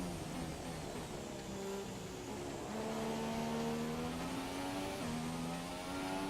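Formula 1 car engine in F1 2017, an older power unit at the Canadian GP practice session, droning steadily with rising and shifting pitch as it accelerates through gears, loud and continuous throughout.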